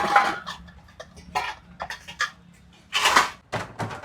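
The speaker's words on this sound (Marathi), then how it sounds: "सर्व भांडे आम्ही एका गोणीमध्ये आणले ते बघा चला काढूया" Old steel household utensils clank and clatter as they are pulled out of a sack, in several short metallic bursts with brief pauses between them, close by.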